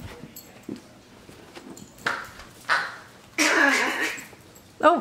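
A dog scampers nearby with soft pattering steps, then lets out several whimpering, whining cries, the last a long wavering whine, with faint background noise.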